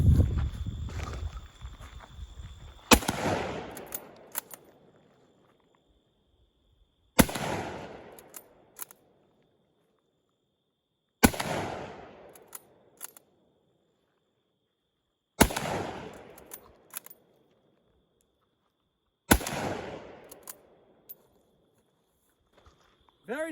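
Five single rifle shots from an Israeli Mauser 98K firing 7.62 rounds, each a sharp loud crack with a decaying outdoor echo, spaced about four seconds apart with quiet handling noise between.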